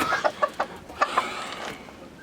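Several short hen clucks, close by, in a loose irregular run over a quiet farmyard background.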